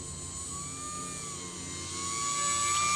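An E-Flite UMX Aero Commander model airplane flies a gear-off touch and go, its small electric motor giving a steady high whine that shifts slightly in pitch and grows a little louder toward the end.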